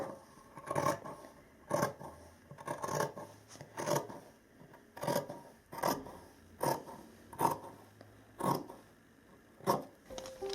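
Scissors cut out fabric pattern pieces for an Elizabethan doublet, giving a soft, close, steady series of crisp snipping and rasping strokes at a regular rhythm, about one cut per second, with no talking.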